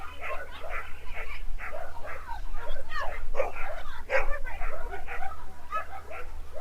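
A Cocker Spaniel, large for the breed, at an agility national competition; dog barks and yips come in short bursts amid crowd noise and commentary-like voices in an arena.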